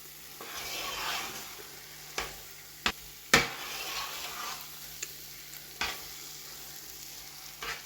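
Carrot halwa with cardamom and chopped nuts stirred in a pan, a soft low sizzle broken by several sharp clinks and scrapes of a spoon against the metal.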